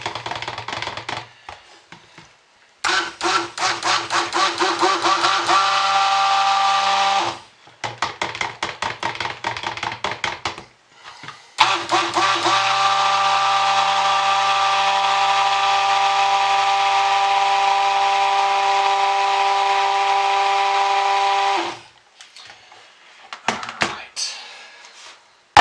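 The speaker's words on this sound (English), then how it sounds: "so I'm going to stick blend some more" A stick blender whirs through thick soap batter in loud, sustained motorized bursts, one of about four seconds and a longer one of about ten seconds, separated by pauses with clicks and handling noise.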